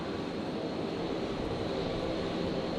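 A Virgin Boeing 737 jet pushing back at Brisbane Airport, heard as a continuous moderate engine hum and whine, steady and fairly distant with no voices.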